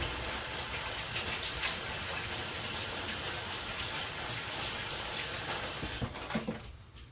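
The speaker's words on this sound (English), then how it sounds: "I'm going to give my hands a quick rinse." Tap water runs in a steady hiss over hands being rinsed in a home kitchen. The flow stops near the end, and a few faint handling sounds follow.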